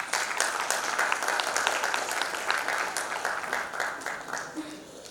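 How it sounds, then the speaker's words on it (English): A conference crowd gives a panel a round of applause at the Digital Transformation Conclave in Guwahati, Assam, a continuous wash of clapping with a voice speaking over it. "Can we have a huge round of applause for this amazing panel?"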